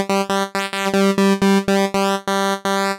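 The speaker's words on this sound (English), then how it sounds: "And then on the square wave, it would act as like a pulse width modulation" A square-wave oscillator with pulse width modulation in the Reason Grain synth plays about a dozen short, bright, buzzy note stabs in a steady rhythm, each one loud with rich overtones and separated by brief gaps.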